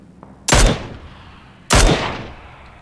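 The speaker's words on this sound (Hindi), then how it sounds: "ये घर के लोगों के ऊपर फायर कर रहे थे क्या" Two loud gunshots ring out in a PUBG battle, the first at about half a second and the second just over a second later, each a sharp crack with a decaying tail and no voices.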